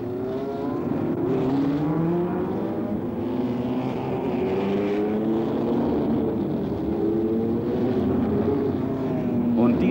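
A turbocharged Porsche 917 race car fitted with endurance brakes roars past, its engine note rising and falling over a layered drone of other cars, steady and loud for the whole stretch.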